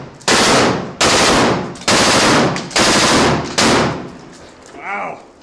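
Full-auto gunfire outdoors in snow: five loud, sustained bursts of rapid automatic fire, each about a second long and separated by short gaps, with a brief whistling tone after the last burst.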